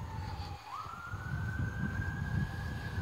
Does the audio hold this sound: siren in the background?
yes